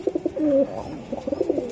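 White Budapest pigeons coo at a pigeon seller's shop, giving close, soft throaty coos in two short bursts.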